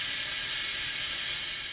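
Steady, loud broadband hiss from an espresso machine's steam wand, used to mimic an alligator's hiss, running continuously and unbroken with no voices.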